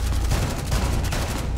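A dense burst of gunfire in the tactical shooter Rainbow Six Siege during a team deathmatch bomb match at Hereford Base, heavy low-end shots that stutter one after another and fill the short moment at close range.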